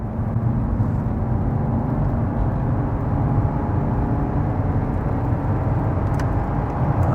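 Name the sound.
Mercedes 190 2.5 diesel accelerating at full throttle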